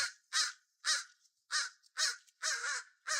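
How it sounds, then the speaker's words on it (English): A crow caws six times in a quick, uneven series of harsh, nasal calls, fairly close and alone, with quiet gaps between them. "This bird is not happy with me."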